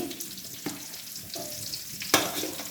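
Masala-coated hog plums fry in hot oil in a pan for pickle, with a steady close sizzle broken by a few sharp clinks and scrapes of stirring.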